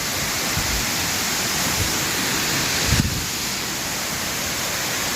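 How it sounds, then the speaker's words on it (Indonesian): The Lamassua waterfall in Bone, South Sulawesi, roars with dense, continuous rushing water, loud and close, with a brief low thump near the middle. "jadi kita sudah sampai guys di air terjun Lama Sua"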